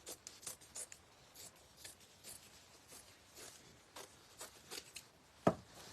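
Scissors cut out fabric for a flower in a series of quiet, close snips and rasps, ending with one sharper click.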